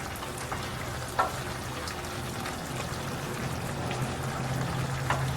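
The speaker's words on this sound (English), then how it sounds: "This has been simmering." A pot of pumpkin, potatoes and acelga simmering on the stove gives a steady, soft bubbling and faint sizzle, with a few small pops standing out over a low continuous hiss.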